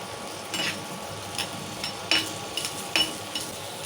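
Onions frying in a pan for egg masala curry, giving a soft steady sizzle with several sharp clinks and scrapes of a utensil stirring against the pan.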